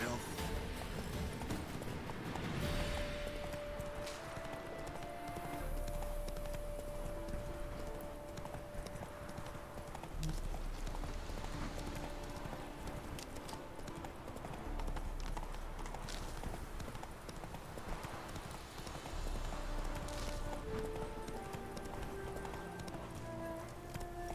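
The horse Roach gallops in The Witcher 3: Wild Hunt with a steady, rapid clip-clop of hooves and a brief whinny, under ongoing talk and game ambience.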